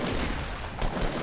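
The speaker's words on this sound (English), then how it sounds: "I'm shooting right inside of it." Gunfire in the video game Fortnite, a short dense burst of rapid shots at steady volume, heard alone.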